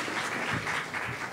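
Audience applause at an adults' horror costume contest, a brief burst of clapping from a crowd that ends in a sudden loud thump.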